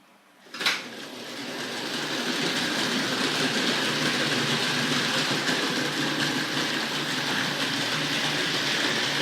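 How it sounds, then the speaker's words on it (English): A Hornby Dublo model Duchess locomotive runs on toy track, giving a steady close whirring rumble with faint clicking that starts after a sharp click and then holds constant. "the Duchess is behaving so much better now. Not as much wheel slip."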